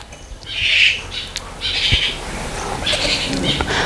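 A bird gives harsh, hoarse caws in three separate bursts, fairly close, over a quiet background.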